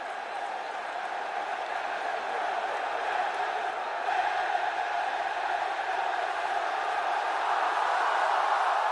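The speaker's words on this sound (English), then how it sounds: "This crowd is going bananas!" Large crowd at a football game cheering and shouting, a broad sustained roar that swells gradually louder toward the end, with no single voice standing out.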